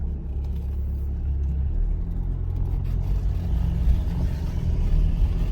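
A car engine idles steadily after starting, its low rumbling drone running close and continuous with a slight swell partway through, set during a driving exam check with the gearbox in neutral.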